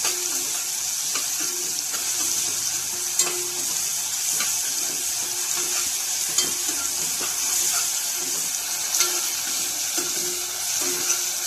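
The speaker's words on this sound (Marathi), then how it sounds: "हे असं छान फ्राय होऊ द्यायचं 1-2 मिनिटं।" A mixture of ground green chillies and garlic sizzles and fries steadily in a pan, with occasional scraping stirs and soft clinks, no voices.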